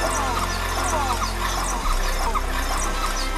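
High-pitched wild boar squeals rise and fall repeatedly over a dense, noisy background of a hunt with dogs, loud and continuous.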